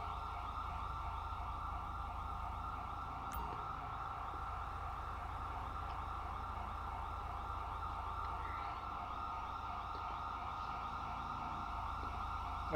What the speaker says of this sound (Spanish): en teoría la ambulancia ya está aquí a la vuelta de la esquina